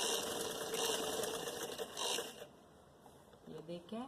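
A sewing machine runs steadily close up for about two seconds while stitching a second gathering line on fabric for a puff sleeve, then slows, and a few faint clicks follow.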